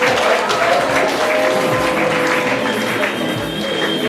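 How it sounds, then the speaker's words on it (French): An audience at a surprise 60th birthday party applauds, a dense steady wash of many hands clapping close by, lasting about four seconds, with a faint voice beneath. "Applaudissez pour moi."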